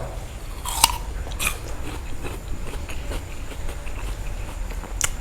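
Someone bites into and chews a crunchy snow lotus snack up close, with a few sharp crunches followed by softer chewing, no talk.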